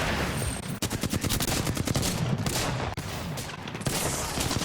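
Rapid automatic gunfire from an Apex Legends match, dense bursts of shots cracking loud and close in continuous volleys with a few brief pauses, no talk over it.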